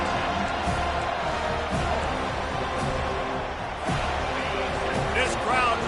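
Football stadium crowd at a college game: a broad, continuous roar of spectators with scattered thumps, under a commentator's voice.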